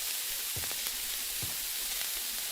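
An egg fries in a pan in The Baby in Yellow video game, giving a steady, moderate sizzle, with a couple of soft clinks in the background and no voices.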